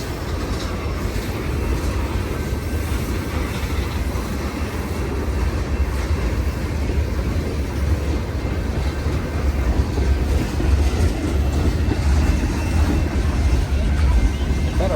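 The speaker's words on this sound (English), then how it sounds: "This one's still got a lot of train to come" A long freight train rolls past nearby, a steady loud rumble of wheels with clickety-clack over rail joints that holds throughout, with voices faintly underneath.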